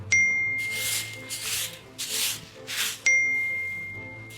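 A phone message notification chimes twice, a bright short ding at the start and another about three seconds later, with soft rubbing and movement sounds in between in a quiet room.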